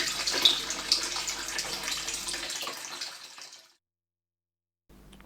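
Bath water runs steadily from a tap as a close, hissing splash, then stops abruptly. A brief faint sound follows after a short silence.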